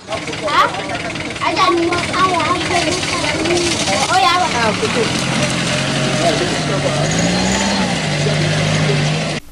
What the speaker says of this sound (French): les passagers sont obligés de descendre du véhicule pour permettre au chauffeur de mieux affronter le